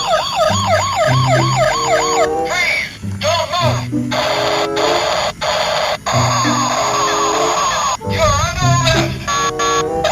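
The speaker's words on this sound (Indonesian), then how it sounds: "ada mobil polisi nih" A police car siren wails loudly and close, its rising and falling tone repeating over a series of cycles, with a person talking over it at times.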